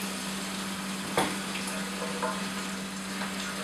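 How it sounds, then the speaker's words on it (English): Tap water running over a pressure cooker in a home kitchen, a steady hissing rush of water against metal with a constant low hum and one brief knock, alone without talk. "and we run the tap over it."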